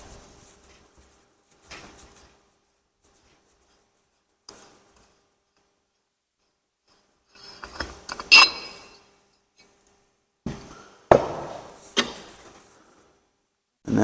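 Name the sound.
threading a bearing flange off a Flux F580 pump assembly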